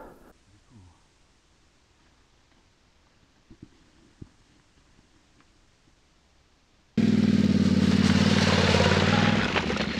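A Yamaha Tenere 700 motorcycle revs up suddenly after a long near-silent stretch, its engine roaring loud and close with wind rush as it sets off on snowy mountain gravel.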